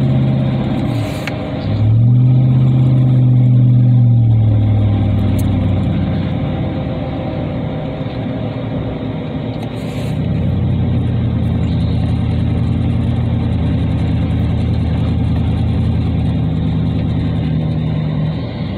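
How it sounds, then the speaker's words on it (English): A 2009 2500HD pickup with a 6.0 gas engine pulls a 5,000 lb trailer, its engine rising in pitch as it accelerates, then settling into a steady, loud drone under light throttle as road speed climbs, with no talking. "I'm about a quarter of the way down on the gas pedal of that. Climbing to 50 miles an hour."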